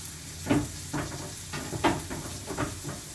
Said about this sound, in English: see those onions and stuff cooking up there